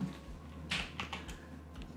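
Typing on a computer keyboard, a handful of quiet, close key clicks spaced unevenly over a couple of seconds, with no talking.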